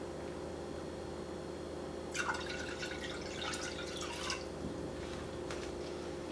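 Broth poured into a pot on a kitchen stove, a short splashing, trickling pour lasting a couple of seconds over steady background hum, followed by a few faint drips.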